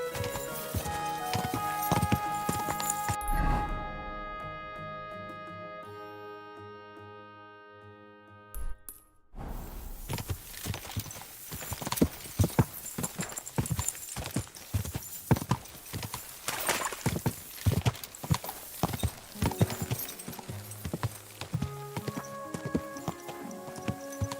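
Horse hooves clip-clop in a steady, rhythmic walk in the video game Kingdom Come: Deliverance 2, loud and close, with a whinny and some game-like tones near the start.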